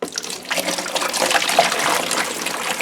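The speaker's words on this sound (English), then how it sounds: "put a little bowl upside down like this, and then fill them up with some water" Water poured into a cooler over a small upside-down bowl, a continuous close splashing trickle with slight surges, alone without talk.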